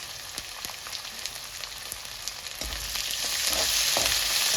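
Onions frying in oil for uggani, a steady close crackling sizzle with light stirring taps that grows denser and louder toward the end.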